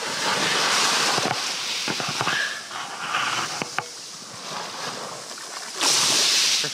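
Ocean surf roars steadily along the shore beside a person standing at the water's edge, a broad continuous wash with gusty wind noise, swelling loudly again near the end.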